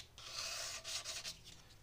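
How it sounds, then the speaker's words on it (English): Light sanding of a guitar's metal fret ends, soft close rasping strokes in a few short passes with brief pauses between, quiet and alone. "I just work my way around with a light touch so that I'm not sanding too much away on all of it"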